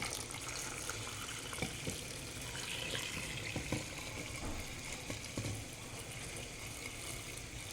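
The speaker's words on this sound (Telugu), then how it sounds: "కుక్కర్లోకి షిఫ్ట్ చేసుకొని బాయిల్ వాటర్ను, అంటే వేడి నీటిని ఇందులో పోసుకుంటున్నాను." Boiled hot water splashes and trickles steadily into a pressure cooker while making mutton paya soup, a soft continuous pouring with a few small metallic clinks, fairly quiet and close.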